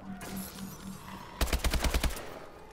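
Automatic gunfire from a weapon in Call of Duty Advanced Warfare ExoZombies on the Havoc map: a tight burst of about eight sharp shots in quick rhythm, loud and close, after a stretch of quieter game ambience.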